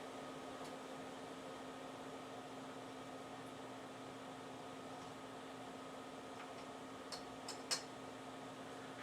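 Electric chopper mincing garlic, a steady quiet motor whir running evenly, ending with a few small clicks and taps.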